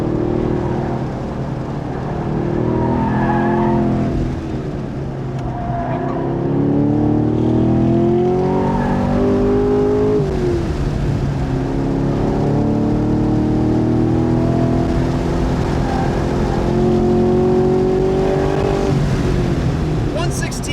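A 2023 Chevrolet Camaro SS 1LE's V8 engine on a race track, revving up through the gears and easing back in repeated loud rising pulls, with a driver talking over it.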